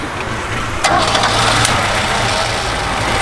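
A Toyota 2JZ engine fitted in a Chevette fires up and settles into a loud, steady idle close by, with a couple of brief sharp clacks near the start.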